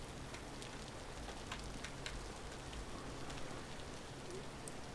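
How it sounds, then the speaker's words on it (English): Rain falls in a lightning-heavy area of the survival game Vintage Story, a soft, constant patter with scattered sharper drop ticks, quiet and steady with no voices. "A lot of lightning, a lot of rain in this area"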